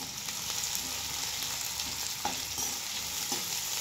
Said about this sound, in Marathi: आता कांदा चांगला परतून घ्यायचा